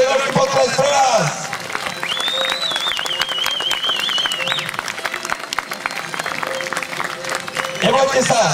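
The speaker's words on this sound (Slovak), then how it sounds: "Ešte raz jeden veľký potlesk pre vás!" Applause and cheering rise from an audience at a medieval festival, with clapping running under an announcer's voice and a long whistle-like tone in the middle.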